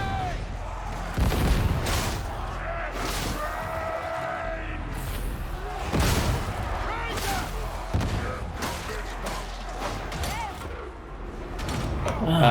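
Grenade blasts and heavy gunfire from a video game pound through a busy firefight, with repeated booming thuds spread across the stretch and a player talking now and then over the action.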